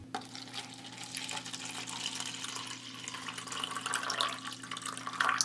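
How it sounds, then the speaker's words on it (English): Water runs and splashes steadily into a cup to be mixed for paper mache, a quiet continuous trickling with a few small drips and clinks over a low background hum. "now we have water"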